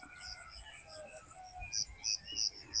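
Faint outdoor dawn ambience beside rice paddies, with scattered distant bird chirps and calls over a low background murmur and soft rustling, quiet and diffuse.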